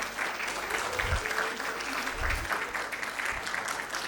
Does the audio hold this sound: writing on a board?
no